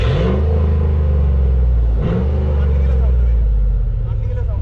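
A Ford Raptor pickup engine runs with a deep, loud continuous rumble and a brief rev midway, while people talk over it.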